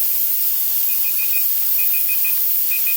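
A kitchen timer beeping in a quick repeating pattern during pressure canning of chicken stock, set against a loud continuous steam hiss from the venting pressure cooker that nearly drowns it out.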